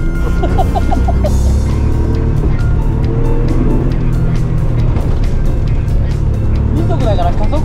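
A Nissan Laurel pulls hard in second gear on a racing circuit, its engine a loud continuous roar heard from inside the car with rising revs, and people talking over it.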